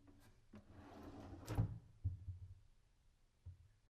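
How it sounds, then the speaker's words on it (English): Wooden nightstand drawers dropped onto their glide hardware, a handful of soft clunks and clicks spaced out over a few seconds with one louder knock in the middle, close and otherwise quiet. "All you have to do now is just drop the drawers on the hardware and they click right in place."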